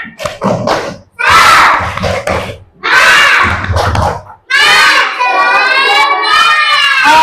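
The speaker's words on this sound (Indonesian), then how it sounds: "Kalau sudah siap, kita mau tepuk semangat." A classroom group performs a spirit clap, with bursts of rhythmic clapping and thumping followed by a loud, sustained group shout or chant, all close and energetic.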